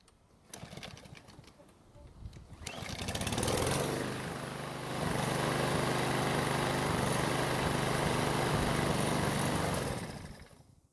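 Small petrol lawn mower engine, hot after running, pull-started and then running steadily at a loud, even pitch for several seconds before cutting off near the end.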